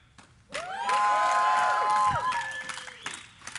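A crowd at the IPL 3 League of Legends event cheers for Team Solo Mid, a loud burst of voices and whoops, with high-pitched shrieks rising together and fading after about three seconds.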